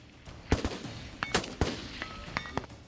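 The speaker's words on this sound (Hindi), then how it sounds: "पुतिन ने गोलियां बरसाई" Rifle gunfire rings out in a rapid, uneven series of sharp cracks, roughly eight shots spread over three seconds, each with a brief ringing tail, heard without any talking.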